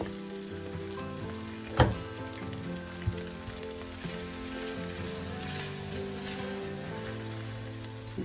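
Flour fries in pork chop grease in a pan while the pan is stirred and scraped. A steady, close sizzle runs throughout, broken by one sharp metallic clink and a few lighter taps.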